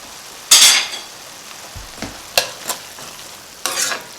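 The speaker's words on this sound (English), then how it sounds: "Last stir." Spoon stirring a beef and lamb stew with lentils in a pot, seasoned with salt and black pepper: a few separate scraping strokes with short pauses between, close and moderately loud, no voices.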